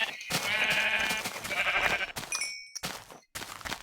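In Minecraft within the YogBox modpack, a sheep bleats in two wavering cries close up, followed by short clicks and ding-like game tones with brief silences between.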